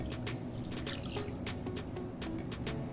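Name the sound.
water poured into powdered egg batter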